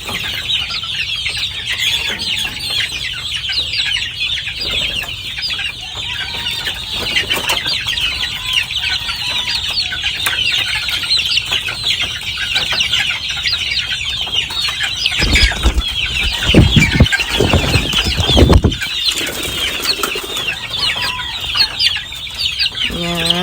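White Claret and Santa Rosa White gamefowl chicks clucking and chirping together at close range, with a burst of wing flapping and scuffling partway through.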